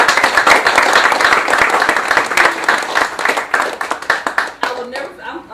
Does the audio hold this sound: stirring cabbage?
no